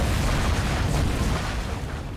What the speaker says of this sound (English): I get a lot of explosions,